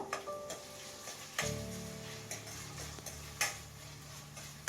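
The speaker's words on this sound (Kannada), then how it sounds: "ನೋಡಿ ಈಗ ಟೊಮೆಟೊ ಎಲ್ಲ ಚೆನ್ನಾಗಿ ಫ್ರೈ ಆಗ್ತಾಯಿದೆ" Tomatoes frying soft in a pan for paneer bhurji, with a quiet low sizzle under sharp spoon clicks and scrapes against the pan at irregular moments, fairly faint and close.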